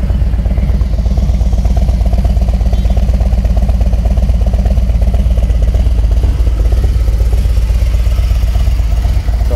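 A motorcycle engine, already warm, runs steadily at idle, a loud, low throbbing rumble with even mechanical pulsing and no voices.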